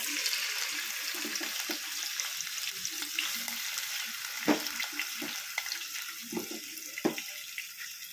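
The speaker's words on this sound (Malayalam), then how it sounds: "നമുക്ക് ആ ചെമ്മീനൊന്ന് ആദ്യം ഒന്ന് വറുത്തെടുക്കണം" Prawns frying in hot oil for a Kerala-style prawn curry give a steady, close sizzle, with occasional sharp clinks and scrapes of stirring and no voices.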